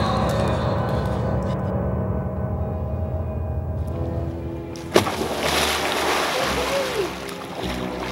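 A person leaps into open water for a swim, one sharp splash landing mid-clip followed by sloshing and churning water, set against a steady outdoor hum with faint voices around.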